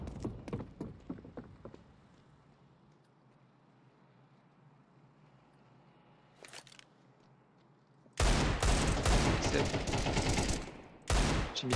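Gunfire in a video game, with a few sharp shots early on, a long quiet stretch and then a dense, loud burst of continuous firing near the end.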